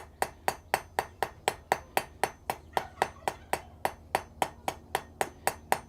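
Blacksmith hammering a thin piece of hot metal out to a finer point on the anvil, about three crisp, ringing blows per second in a steady even rhythm, close and clear with no talking.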